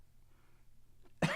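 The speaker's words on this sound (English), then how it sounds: "I'll try not to cough into the mic." A single sharp cough bursts out close to the microphone at the very end, loud and abrupt after near silence, during an art history portrait drawing session.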